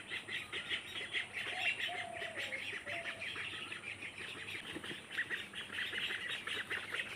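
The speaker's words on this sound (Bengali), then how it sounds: "হাঁসগুলো কি সুন্দর মুক্ত হয়ে বের হয়ে আসলো" Ducks quack in short nasal bursts as they stream out of their village duck house, moderately near, over a steady hiss of outdoor birdsong and chirping.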